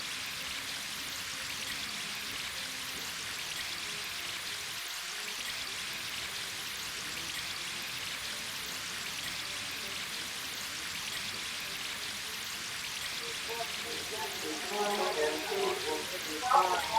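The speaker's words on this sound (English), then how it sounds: "the splash of the water will keep you nice and cool" Water rushes and sprays on a carnival water ride at the 2020 Gull's Wing Carnival, a constant hissing wash with louder splashes building near the end.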